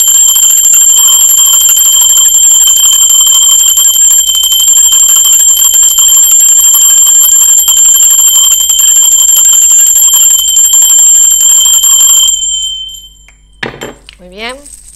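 A bell rings loud and close with a sustained, steady shimmering tone that holds for about twelve seconds and then cuts away. A brief sweeping whistle-like sound follows.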